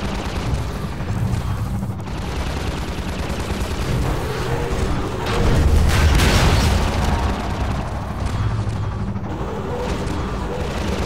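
Turret gunfire in the Half-Life 2 sand traps area, a sustained rumbling barrage of shots and booms that swells in the middle, with gunships nearby.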